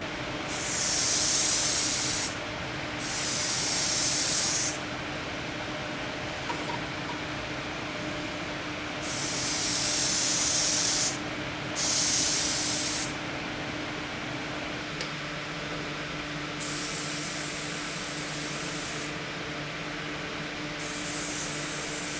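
Rattle can clear coat sprayed onto a Raleigh Bomber bike frame during restoration: loud, close hissing bursts of a few seconds each, roughly eight in all with short gaps, over a steady background hum and no talking.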